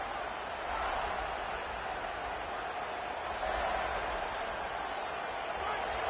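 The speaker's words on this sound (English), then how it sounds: "The roar of the crowd trying to fuel this defense to keep them pinned in their own end." A stadium crowd roars in a football video game, a steady, moderately quiet wash of massed cheering that swells slightly partway through.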